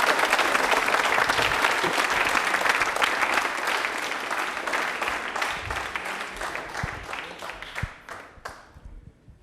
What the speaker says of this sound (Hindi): तालियां हो जाए इनके लिए एक बार।